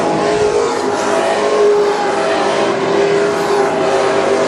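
WISSOTA Super Stock race cars roar around the North Central Speedway oval, a loud, continuous engine drone with several cars running close together and no break in the noise.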